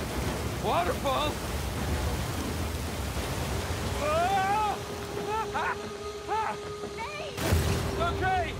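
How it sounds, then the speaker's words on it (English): In the Uncharted 4 video game, a rushing waterfall and river water roar as a steady, loud wash. Excited voices shout over the water throughout. "Waterfall! Waterfall!"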